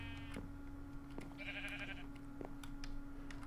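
A sheep bleats in the Minecraft SevTech modpack, one clear wavering bleat in the middle over a steady hum of game ambience with scattered soft clicks.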